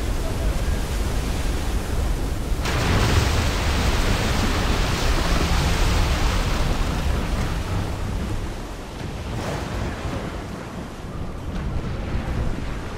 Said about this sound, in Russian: Блять, а тут волна идет.